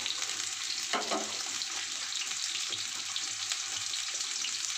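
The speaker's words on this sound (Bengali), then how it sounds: "আলুগুলো একটু লাল লাল করে ভাজবো" Potato pieces, some cut thick and some small, fry in oil in a pan, with a steady close hiss of sizzling that runs throughout and a brief stirring scrape near the start.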